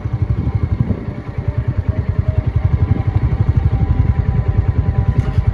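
A motorcycle engine chugs close by in a fast, steady rhythm of low thumps, loud and alone with no talk, as if idling or riding slowly at night.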